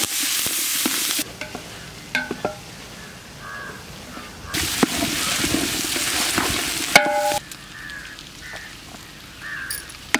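Curry leaves sautéing in a pan with dried red chillies for country chicken curry, a loud hissing sizzle that surges and drops, with utensil scrapes and a crow cawing in the background, no talking.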